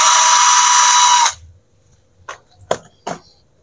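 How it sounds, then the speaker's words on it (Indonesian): A loud, steady high-pitched electric drill priced around 300,000 rupiah whirs for over a second, then cuts off, followed by a few short clicks and knocks. "Ini bor yang 300 ribuan, suaranya seperti ini."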